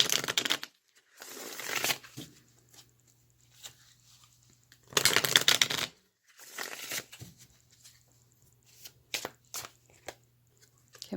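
Tarot cards being shuffled and drawn from a deck for a reading, bursts of crisp riffling and papery slides close up, separated by quiet gaps.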